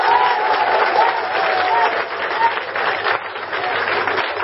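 Crowd applause at a live church concert, a dense steady wash of clapping lasting throughout, with faint voices and tones mixed in.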